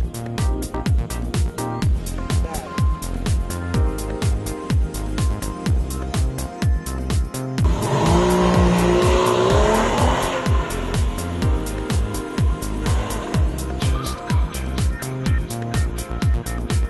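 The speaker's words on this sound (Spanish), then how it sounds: "habrá que pisar un poquito el acelerador" A Porsche, timed over two laps on a slalom course at a Porsche World Roadshow event, runs hard with a steady loud engine note, repeated rhythmic pulses and a burst of tire squeal midway.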